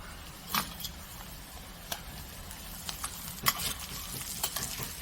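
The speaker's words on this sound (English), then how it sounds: "these onions and mushrooms look like they're about ready to go" Onions and mushrooms fry in a pan as a steak topping, giving a soft, steady sizzle close by, broken by a few light clicks and scrapes of stirring; no one speaks.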